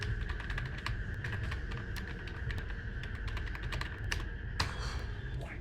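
Close, steady typing on a computer keyboard as a command is entered, with a fast run of light key clicks and one louder keystroke near the end over a constant electrical hum.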